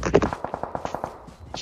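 Rapid automatic gunfire in PUBG, a quick burst of a dozen or so evenly spaced shots at moderate distance, with a final louder report at the end.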